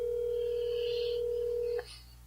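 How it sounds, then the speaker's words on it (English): A phone call on speakerphone gives a steady electronic ringback tone that holds for nearly two seconds, then cuts off with a click before a quieter line hiss follows. "It's ringing."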